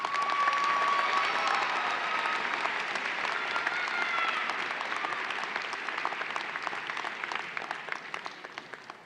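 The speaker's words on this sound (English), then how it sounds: "How about a round of applause for these graduates?" Audience applauding graduates at a university fall commencement ceremony, a large crowd's sustained clapping that stays full and steady, thinning slightly toward the end, filling a big hall.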